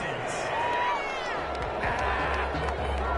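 A home crowd at a football game cheers a penalty flag call, a broad, sustained roar with scattered claps and shouts, with a commentator talking over it.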